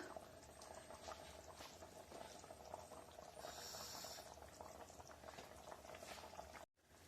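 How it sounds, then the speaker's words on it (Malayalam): A pot of sardine fish curry bubbles and simmers steadily up close, a continuous wet, popping boil that cuts off abruptly near the end. "മീൻകറി നല്ലപോലെ തിളച്ച് വന്നിട്ടുണ്ട്"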